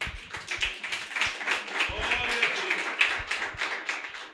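A church congregation claps together after a sermon. The applause is faint and scattered, with quick irregular claps running for a few seconds and a little background voice.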